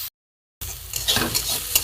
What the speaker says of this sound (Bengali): একটু ভাজা ভাজা হোক আলুটা,